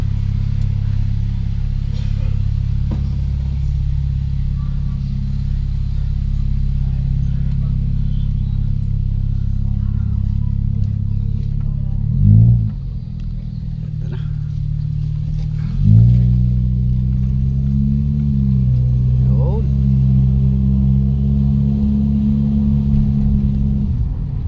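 A Toyota Corolla 1.6 automatic with oil leaks at the distributor and transmission drives on a road test, a steady low engine hum close up, with two brief bumps where revs climb before settling.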